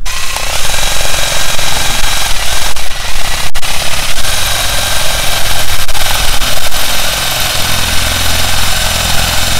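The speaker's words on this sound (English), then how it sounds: "So we're going to drill a hole in there and then it's going to be sheep proof." A powered drill bores a hole into the perimeter fencing of a new apiary, its motor a loud, steady, close roar that runs unbroken for the whole stretch.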